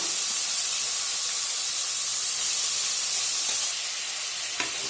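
Chana dal and cauliflower fry in a hot pan with a loud, steady, dense sizzle and hiss that runs unbroken throughout, easing slightly near the end.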